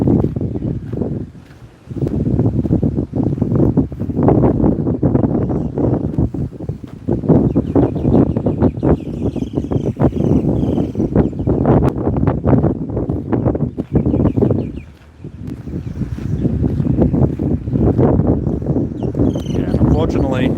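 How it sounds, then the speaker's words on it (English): Strong, gusty wind in Melbourne buffets the microphone with continuous low rumbling roars, dropping briefly twice before surging back, while a voice talks faintly underneath. "So yeah, Melbourne and its surroundings just get pummeled by wind."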